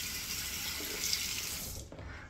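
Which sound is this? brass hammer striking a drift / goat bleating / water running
water running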